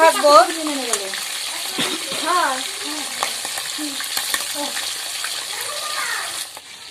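Roast pieces frying in hot oil in a home kitchen during a family picnic, a steady busy sizzle with stirring scrapes, close and continuous, while people talk over it.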